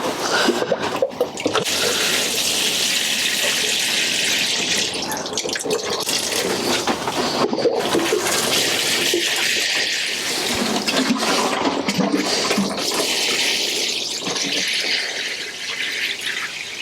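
Liquid seaweed feed splashes and gurgles in a steady, loud pour onto tomato and cucumber plants, with short pauses between pours and a few faint squeaks.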